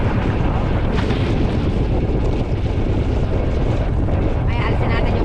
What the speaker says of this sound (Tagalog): Sumisipoy pa ang hangin.